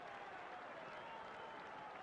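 A rugby stadium crowd applauding at a 1987 Wales versus Australia match, a distant, steady wash of clapping and crowd noise held at a constant faint level throughout.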